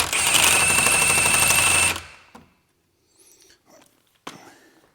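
A loud impact gun with a 17mm socket hammers away at a bolt in one sustained burst of about two seconds, followed by quiet handling clicks and a sharp metallic clank.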